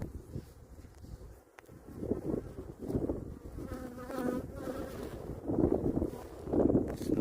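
Dense buzzing of many honeybees swarming close by at a hive, a steady droning hum with swelling pulses and some wind rumble underneath.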